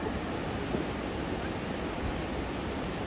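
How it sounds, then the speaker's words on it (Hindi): Water rushing through the open gates of the 52-gate dam at Talwara, a loud, steady broadband roar that continues without a break, heard up close with no speech over it. "पानी की आवाज़ सुन सकते तुम, देखो कितनी तेज है।"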